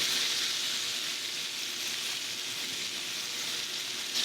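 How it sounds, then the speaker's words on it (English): Pork chops searing in a hot pan for honey garlic pork chops give a steady, dense, loud hiss and sizzle, unbroken and close, with no voices. "That way they get nice and seared."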